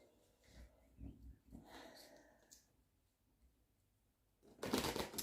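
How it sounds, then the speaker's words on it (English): Tarot cards are shuffled by hand in a quiet room, giving soft, brief riffling bursts early on and then a louder, closer flurry of card noise at the end. "Just gonna shuffle these cards."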